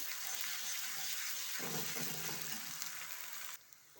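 A spoonful of ginger garlic paste sizzles in hot oil for a soybean curry while being stirred, a close, steady hiss with a brief rougher frying burst midway before it drops quieter at the end.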